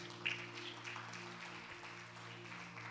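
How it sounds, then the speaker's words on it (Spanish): Church congregation applauding during a sermon, a steady broad patter of many hands at moderate distance, fairly faint, with a low hum underneath and no talk. "¿Cuánto le puede dar un fuerte aplauso al Señor?"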